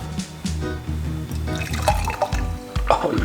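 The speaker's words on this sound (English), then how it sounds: "Pour it out." A blended juice-like liquid poured out of a container, close, with sloshing glugs and splashes that grow busier toward the end.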